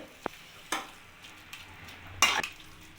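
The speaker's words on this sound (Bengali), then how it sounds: "বাঁধাকপির সাথে এটা আমি মিক্সড করে নেব ভালো করে" Gram flour batter with cabbage stirred in a kadai, with a few sharp scrapes and knocks of a spoon against the pan over a soft, faint sizzle, close by.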